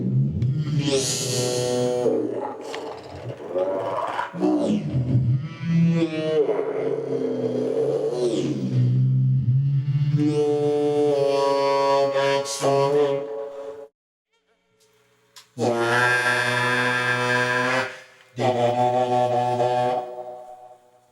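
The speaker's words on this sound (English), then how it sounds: "over here, we've got the vocoder, the Roland vocoder." A robotic, buzzy voice through a Roland vocoder talks and sings in harmonized tones, with a few short pauses between phrases, loud and up front.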